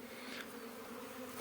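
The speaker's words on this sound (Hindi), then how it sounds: "सारी मधुमक्खियाँ जो है उड़ चुकी है, फैल चुकी है।" Honeybees swarming in the open around a wooden hive box, a dense continuous buzzing drone from many insects at once, steady and fairly close, with no voices.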